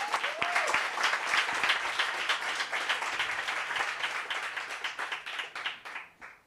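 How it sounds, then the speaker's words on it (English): A workshop audience gives sustained applause: dense, even clapping from a seated group that holds steady and then thins and fades out toward the end. "So give yourself a round of applause."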